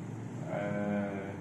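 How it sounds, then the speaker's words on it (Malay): Dairy goats on a university farm giving a single drawn-out bleat, moderately loud and near, over a low hum of farmyard background. "sini kita ada lebih kurang 350 ekor kambing susu"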